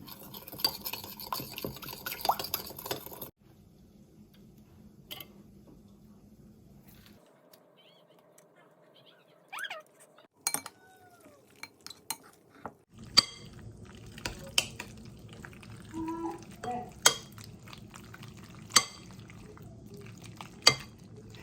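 Sticky rice being stirred in a pot: soft scraping and scattered clinks of a utensil against the pot, quiet and intermittent, with a near-silent pause partway through.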